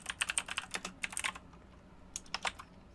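Rapid typing on a computer keyboard: close, crisp key clicks in two quick bursts with a short pause between them.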